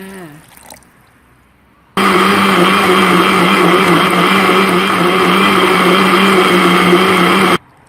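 Blender whirring at full speed through ginger, lime and water, a loud steady motorized drone of about six seconds that starts and stops abruptly after a few soft clicks.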